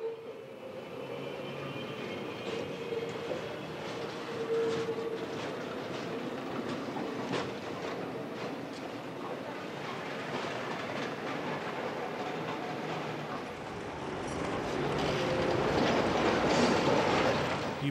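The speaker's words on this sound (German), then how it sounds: "Aus der Marktstraße biegt dieser Gotha-Zug mit einem Rekobeiwagen auf den Domplatz" A Gotha-built tram pulling a Reko trailer car turns onto a cobbled town square, rumbling and squealing on the rails with wheel clatter, growing louder toward the end as it passes close by.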